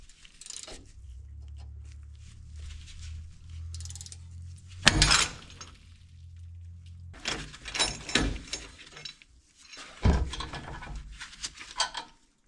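Ratchet turning out the 10 mm brake line mounting bolts on a 3rd gen Toyota Tacoma during front suspension work: a low hum, then close, intermittent bursts of mechanical clicking and clattering, with no talk.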